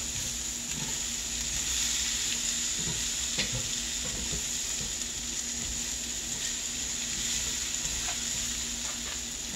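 Vegetables stir-frying in a pan with butter after pork tenderloin was taken out, giving a steady close sizzle with scattered scraping and stirring clatter throughout.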